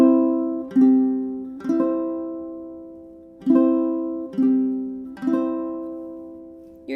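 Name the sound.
ukulele strummed, Frère Jacques melody with a rest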